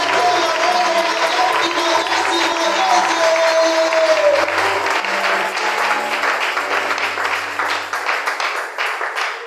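A church congregation applauds and cheers during a French-language worship service, dense sustained clapping and crowd noise filling the space from start to finish, loud and close.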